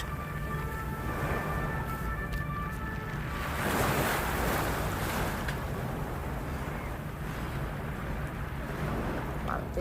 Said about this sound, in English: we have the beautiful Mediterranean Sea behind us